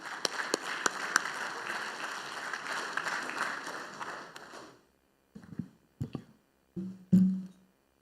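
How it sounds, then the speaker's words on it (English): A conference audience applauds, a dense burst of many hands clapping that fades out after several seconds, followed by a few isolated thumps and handling sounds. "please join me in giving a warm round of applause to our leaders"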